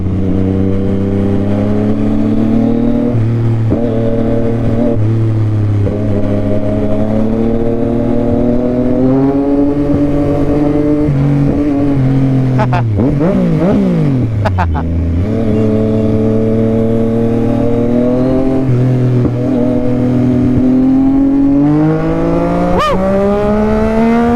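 A Yamaha XSR-900 motorcycle with a drift exhaust revs loudly and repeatedly, its engine pitch climbing and falling through several throttle blips and one sharp dip and rise, heard up close.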